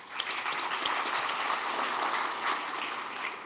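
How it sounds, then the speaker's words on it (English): Audience applause fills a conference hall at the Arctic Summit, a dense, steady clapping from many hands that continues evenly throughout, with no speech over it. "So give yourselves an applause too"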